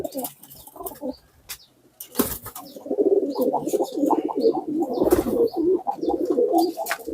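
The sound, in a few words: racing pigeons cooing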